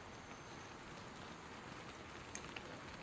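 Steady rain patters on a surface at night, a dense, even hiss with a few brief drops standing out; no voices.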